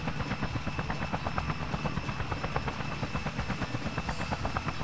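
Helicopter in the video game Just Cause, a rapid rhythmic rotor thump over a steady engine drone, constant and close for the whole stretch.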